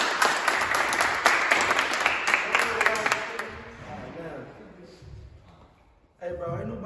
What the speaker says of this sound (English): So clap it up for us.